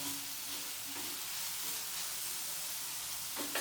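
Steady sizzling of onion sautéing in a pan, with a few scraping stirs, close and continuous, no talking.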